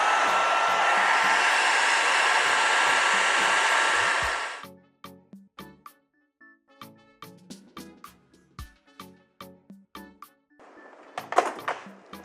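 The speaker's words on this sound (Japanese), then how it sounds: "ドライヤーとかで表面の温度を高めて発見しやすくしてあげるっていうのをよくやったりします" A hair dryer blows steadily and loudly for several seconds while warming a thawed frozen feeder for a ball python, then cuts off, followed by a series of small clicks, taps and handling noises.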